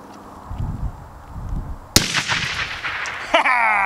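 A homemade can cannon fires a grenade with one sharp, loud bang, followed about a second later by a second burst and a lingering ringing tone, after a few low murmurs outdoors.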